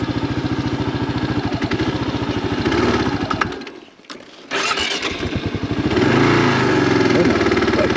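Kawasaki KLR 650 motorcycle riding a sandy trail on the Barlow Road in Oregon, its single-cylinder engine thumping loud and close, dropping out briefly near the middle before revving strongly again.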